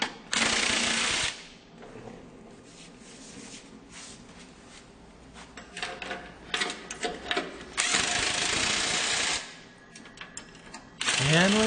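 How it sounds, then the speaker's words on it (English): Several bursts of a power driver or impact tool run loud and close while a bracket is screwed back onto a WoodMaxx flail mower, with clattering and rattling between the runs. "Now we're screwing the bracket back onto the machine."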